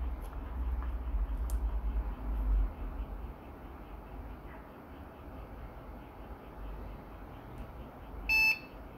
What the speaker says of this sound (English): Hey, look at that, we heard one beep.